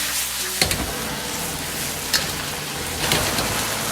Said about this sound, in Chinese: 继续保持大火，快速翻炒均匀